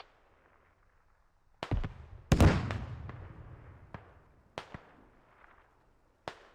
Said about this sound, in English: We'll see what this artillery can do.